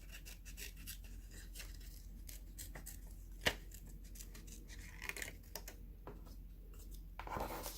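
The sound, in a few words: scissors cutting out a paper circle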